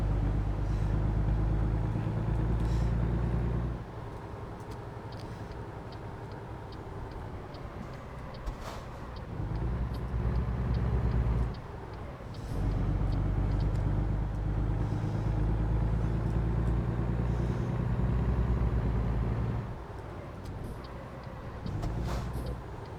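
A truck drives in the video game American Truck Simulator, its engine a steady low drone that dips briefly and returns, with faint ticking over the top and no talking.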